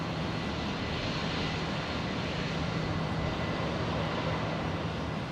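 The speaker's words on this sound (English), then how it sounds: "Qantas Link 405 there, just arrived from Emeralds, pulling into the Qantas Link apron." QantasLink aircraft taxiing onto its apron at Brisbane Airport after arriving from Emerald: a steady, even engine rumble with a faint low hum throughout, fairly quiet and unchanging, with no talk.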